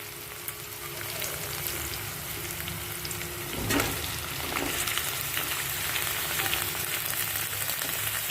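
Potatoes go into a pan of translucent, lightly pink frying onions for Kashmiri gande te alve, giving a loud, continuous sizzle with crackling bursts and a brief stirring scrape partway through, no voice.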